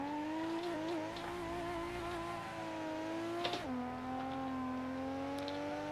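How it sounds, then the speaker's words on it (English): A car drifting in the Assetto Corsa racing game, a sustained engine drone holding a steady pitch with a brief squeal and dip in revs partway through, no voices over it. "it's really hard to drift this car in third gear"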